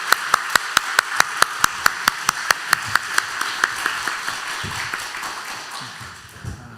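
Church congregation clapping at a centennial anniversary worship service, a steady rhythmic beat of claps that slowly fades over several seconds, heard fairly close with no voices.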